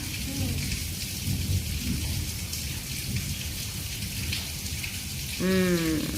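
Steady heavy rain pours with low rumbling thunder throughout, loud and enveloping, and a voice briefly rises near the end.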